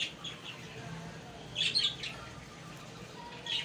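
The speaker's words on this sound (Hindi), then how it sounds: "और ये रही हमारी चिड़िया। ये बार बार ना अजीब सी आवाज़ निकालती हैं" A small pet bird at home gives thin, high chirps in two short bursts, one in the middle and one at the end. The chirps are faint over a quiet room hum.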